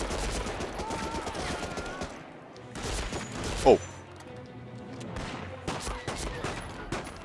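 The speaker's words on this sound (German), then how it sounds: "Schuss." Rapid bursts of gunfire from a Thompson submachine gun in the Medal of Honor Rising Sun video game, with sharp shots crackling over a busy battle backdrop and a man briefly exclaiming.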